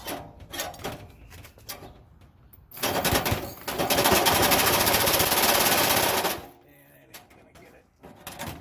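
A portable bandsaw cutting metal with a different blade, a loud sustained rasping buzz lasting about three and a half seconds, with clattering and handling noises before and after.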